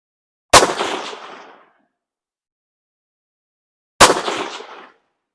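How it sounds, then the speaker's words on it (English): Two sharp rifle shots from a Rossi RS22M .22 rifle, several seconds apart, each a crisp crack trailing off into a short echo, with silence between them. "Couple more shots."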